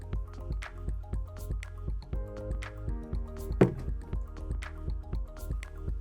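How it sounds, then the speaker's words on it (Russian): Thick sourdough starter made from whole-grain flour and water is poured into a clean glass jar. It sounds as soft, close wet drips and squishy plops in an irregular rhythm. "отольем половину вчерашней массы в чистую банку"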